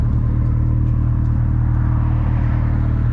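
A Mazda Miata fitted with a new aggressive clutch pulls away from an apartment lot, its steady engine drone and low rumble loud and close, holding continuous throughout without any voices.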